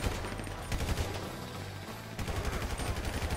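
Rapid automatic gunfire in a GTA V shootout, dense rattling bursts sustained throughout, a brief lull, then a fresh volley, loud over a low rumbling background.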